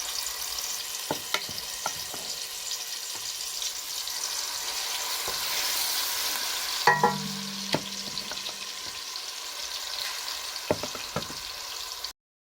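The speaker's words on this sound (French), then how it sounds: "Je laisse sauter les légumes juste entre 3 et 5 minutes." Vegetables sauté in a pan for rice with a lively, close sizzle and occasional stirring scrapes, one louder clatter midway, before cutting to silence.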